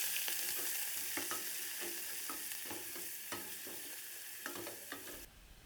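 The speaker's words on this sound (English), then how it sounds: "we are going to start by adding our peppercorns and onions. Okay, so now cook for 1 to 2 minutes." Peppercorns and onions fry in oil for a cabbage and minced meat dish, a steady close sizzle broken by repeated clicks and scrapes of stirring, then cutting off abruptly near the end.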